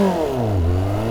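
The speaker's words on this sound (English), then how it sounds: "let's do a quick 0 to 60 run, maybe 2" A 1999 Kawasaki ZX-9R motorcycle engine revs up hard in a 0 to 60 launch, the loud tone climbing briefly before a dip as the rider shifts, with no talk over it.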